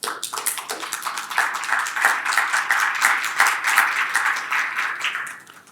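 Church congregation clapping together in a steady rhythm, many hands beating in time for several seconds before fading out at the end.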